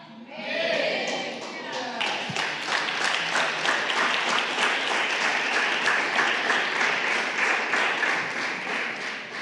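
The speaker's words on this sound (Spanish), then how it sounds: "Denles un aplauso a los adherentes, por favor, del discipulado de artes" Congregation in an evangelical church applauding arts discipleship students, a lively burst of many hands clapping that rises quickly and stays dense and even, with faint voices mixed underneath.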